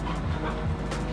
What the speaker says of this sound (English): You are such a goofy dog.